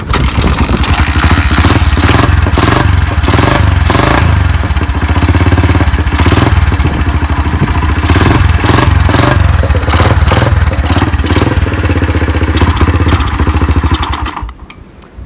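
A 1981 Kawasaki KLT200 three-wheeler barn find, running on a primed carburetor, fires up and runs with a loud, close, steady small-engine putter and clatter before cutting out abruptly near the end.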